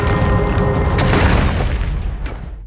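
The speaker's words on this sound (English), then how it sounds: "He grabbed the knife and broke through the ice," Ice cracking and breaking as a stone knife is driven through a frozen surface, a loud dense crunch with a heavy low boom and sharp brittle snaps running continuously throughout.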